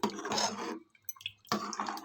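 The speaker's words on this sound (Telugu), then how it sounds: "ఇలా వాటర్ పోసేసుకుని ఒకసారి తిప్పుకోండి." Water is poured into a cooking pot for a vegetable sambar and stirred, heard as two dense bursts of splashing, close and fairly loud, separated by a brief quieter gap with faint clinks.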